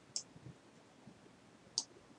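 Two sharp computer mouse clicks while a screenshot area is being selected, quiet and spaced about a second and a half apart against a faint background.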